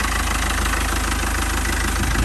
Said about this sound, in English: Starts and idles nicely.